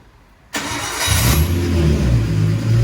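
A car on a dyno cranks briefly, then catches and fires up into a loud, steady running engine with a rough mid-range growl, close and continuous with no talking.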